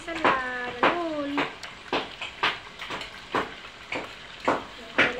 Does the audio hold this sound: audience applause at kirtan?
no